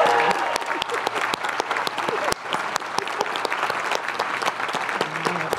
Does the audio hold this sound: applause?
yes